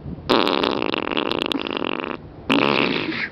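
A voice imitating the fart of a fat person, a long buzzing lip-trumpet blast with a brief break and then a second burst, loud and close with no other sound.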